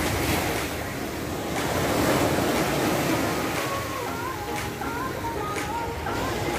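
Ocean waves wash onto the shore at Miami Beach in a continuous, loud surf roar, with wind buffeting the microphone.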